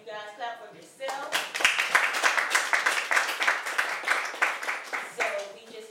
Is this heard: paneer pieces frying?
no